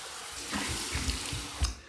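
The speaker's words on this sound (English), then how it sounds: "here's my cold water rinse" Cold water running from a tap and splashing into a sink, with a few soft thumps and splashes as hands rinse through the stream after a shave.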